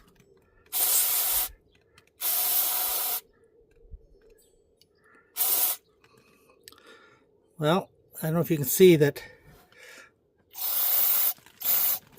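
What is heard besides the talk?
spraying cleaner into a Duramax mass air flow sensor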